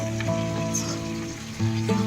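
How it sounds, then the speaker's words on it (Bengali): Gobindobhog rice frying in a pan for khichuri makes a soft, steady sizzle close by, with a faint tonal hum beneath it and a slightly louder stir near the end. "এটা খিচুড়িটার চাল ভাজছো নাকি হ্যাঁ এটা চাল ভাজা"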